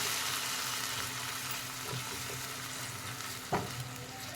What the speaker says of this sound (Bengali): টমেটোটা আমার ভালো করে ভাজা হয়ে গেছে